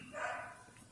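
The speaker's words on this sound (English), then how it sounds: "Man, the neighbor dogs are so annoying." A puppy next door gives a single short, faint bark from some distance, heard briefly on its own.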